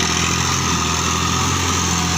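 A Kubota L3608 tractor engine running steadily, a continuous close diesel drone with a fast even beat and no voices over it.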